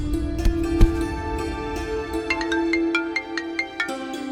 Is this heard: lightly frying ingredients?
no